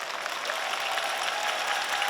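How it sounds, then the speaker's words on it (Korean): An audience applauds at an open talk for the film 'Jeon, Ran' at the 29th Busan International Film Festival, a dense, steady wash of many hands clapping, heard alone. "박수 부탁드릴게요"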